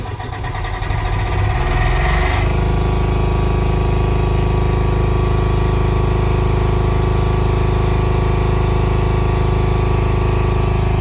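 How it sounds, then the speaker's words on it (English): A Fisher Panda generator aboard a narrowboat starts up with a rising rumble, then settles into a loud, steady engine drone with a constant hum that continues without pause. "Switch over to number 3, which is the generator."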